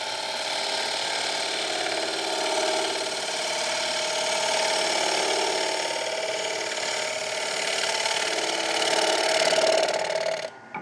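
Wood lathe spinning a bowl blank while a 1/2-inch gouge cuts, giving a steady whirring motor hum with a continuous scraping, hissing cut layered on top for about ten seconds before it briefly drops away at the end.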